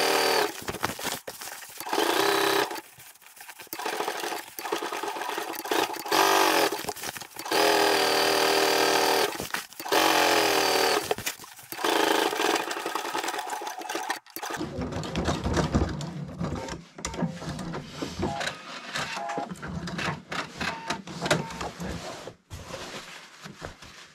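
A sewing machine runs in sped-up bursts while stitching anorak seams, its rapid mechanical whirr starting and stopping repeatedly, loud and close, with a busier stretch of stitching and handling noise in the second half.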